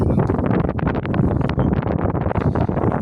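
Strong wind buffets the microphone at an outdoor shooting range, a loud, continuous, gusting rumble with no voices.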